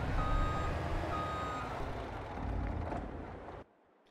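A truck in Farming Simulator 22 reverses into a shed, with steady repeating reversing beeps over a loud engine drone that cuts off abruptly near the end.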